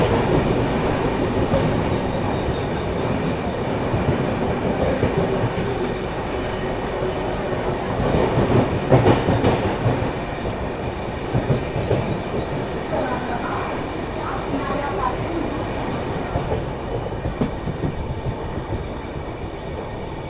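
Train running past Thane railway station in Mumbai, heard from aboard the Jabalpur–Mumbai Garib Rath Express: a steady, loud rumble of wheels and carriages with clattering bursts, continuous throughout with no talking.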